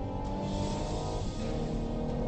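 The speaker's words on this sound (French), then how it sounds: "c'est le retour sonore de ce moteur qui développe 205 chevaux" Renault Mégane 4 GT 205 hp engine running, a steady, dense throaty drone heard from inside, fairly loud and continuous with no talk.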